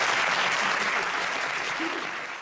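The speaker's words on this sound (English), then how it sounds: "Can I get some applause?" Steady applause from a crowd, dense clapping that holds throughout and tapers slightly at the end, with faint voices mixed in.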